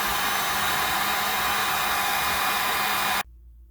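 A hair dryer blows loudly and steadily on a cream golden retriever during grooming, a constant close rushing whir that cuts off abruptly near the end, leaving near silence.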